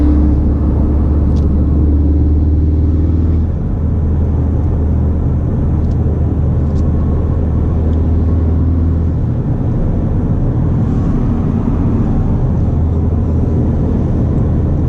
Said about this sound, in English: the engine is so loud, and that intake really adds to the theatre of the engine